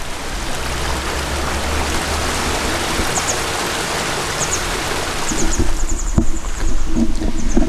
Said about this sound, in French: sous ces petites cascades, moi j'adore ça